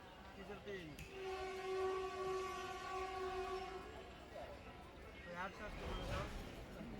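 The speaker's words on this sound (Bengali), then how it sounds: "বলতেই আমাদের ট্রেন ছেড়ে দিল" The 12858 Tamralipta Express pulls out of a quiet station: a long, steady horn blast sounds over rumbling rail noise and wagon clatter, fairly near, with a voice talking briefly.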